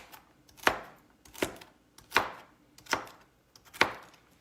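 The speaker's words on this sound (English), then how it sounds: "Give it another quick little chop." A knife chops remoulade sauce ingredients on a board with five sharp, evenly spaced thuds, close and clear against a quiet kitchen.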